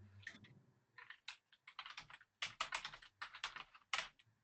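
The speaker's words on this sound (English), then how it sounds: "She's typing, preferring to speak with us today." Quick, irregular clattering of keys on a computer keyboard, close and fairly quiet, in uneven bursts with short pauses and no talking.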